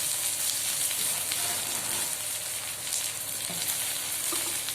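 Onion and raw green chili frying in a pan of oil for a bottle gourd and fish curry, a steady close hiss and crackle with occasional spatter and stirring clinks throughout, no voices.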